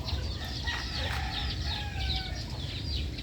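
A rooster clucks and calls several times, close and clear, among a crowd of chicks in a Filipino backyard flock, with steady low rumble and chirping beneath.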